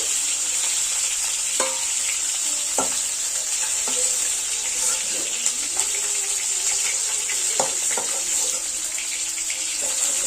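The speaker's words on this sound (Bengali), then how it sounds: "মাছগুলো ভাজা হয়ে গেছে, এবার নামিয়ে নিচ্ছি।" Ban (eel) fish frying in oil in a pan, a steady loud hiss with occasional crackles and a few clinks of a utensil, close and continuous without talk.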